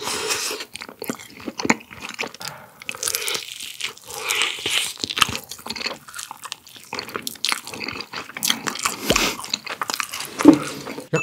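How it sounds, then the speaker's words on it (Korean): Charcoal-grilled spicy chicken meat being bitten and chewed up close, with crunchy bites followed by irregular wet chewing and smacking, loud and near with no talking. "살코기 한번 먹어볼게요."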